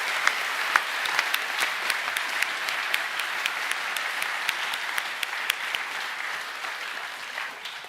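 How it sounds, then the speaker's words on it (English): An audience at a school co-curricular awards ceremony applauds award winners, with steady, sustained clapping from many hands close by throughout, without talk. "Please put your hands together for our Cultural Accommodation Award winners."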